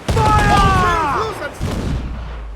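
Ship cannons fire in Assassin's Creed Black Flag, with a loud booming volley and rolling explosions over shouted voices and a rising musical swell, followed by a second, softer boom as the roar fades.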